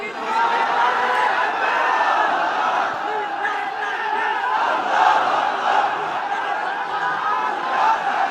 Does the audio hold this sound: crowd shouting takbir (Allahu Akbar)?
yes